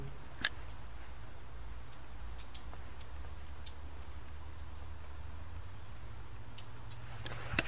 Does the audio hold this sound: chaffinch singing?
yes